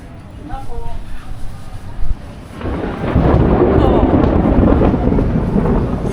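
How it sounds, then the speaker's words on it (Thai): Thunder rumbles during a storm over Chatuchak outdoor plant market in Bangkok, first a distant low roll, then a loud sustained roar mixed with heavy rain; someone talks over it. "สียงฟ้าร้องแล้วค่ะ ฟ้าแลบ ฟ้าแลบแล้ว"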